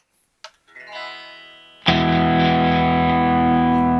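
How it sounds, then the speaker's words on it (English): A few faint picked notes give way to a loud, sustained overdriven electric guitar chord from a Line 6 Helix Stadium XL modeler, with a thick, saturated tone that holds steady. "They sound like this overdrive sound."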